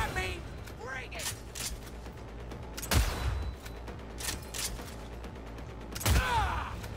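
Gunshots in the video game Cyberpunk 2077 during a shootout in the Grand Imperial Mall, a few sharp reports spaced seconds apart with mechanical clicks and creaks between, moderately loud amid players talking.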